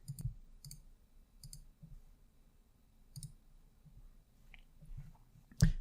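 Sharp, faint mouse clicks sound one at a time at irregular intervals as someone works in Excel. One louder click lands at the end.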